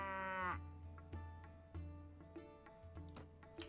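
Cattle low and moo in the Mount & Blade Warband Skyrim Civil War mod, with one long harmonic moo at the start followed by several short, sharp knocks and thuds. No one speaks.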